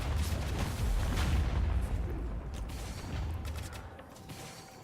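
Gunfire in the shooter game Firefall during a team deathmatch, heavy booming shots with a low rumbling tail, loud and dense at first and then easing off toward the end.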